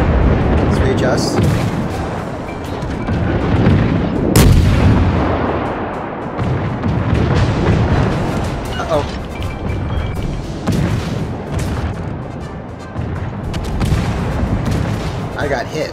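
Warship guns in the World of Warships naval combat game boom repeatedly, heavy artillery blasts and rumbling impacts layered over a continuous loud battle din, with a person talking throughout.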